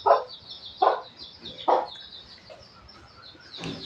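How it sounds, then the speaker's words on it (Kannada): Hen clucking in the morning as she comes to lay eggs: three sharp, fairly close clucks in quick succession, then softer, fainter clucks against a quiet outdoor background. "ನೋಡಿ ಕೋಳಿ ಮೊಟ್ಟೆ ಹಾಕಕ್ಕೆ ಬಂದಿದೆ"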